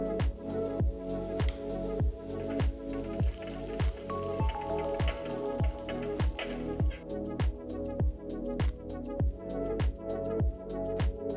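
Cashews and raisins frying in ghee for sakkarai pongal, a steady close sizzle broken by a regular, rhythmic series of sharp taps and clicks, with light music running underneath.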